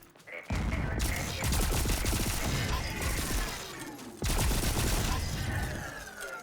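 Guns fire in Volcanoids in two long, loud, dense bursts of rapid shots, with a short pause between them.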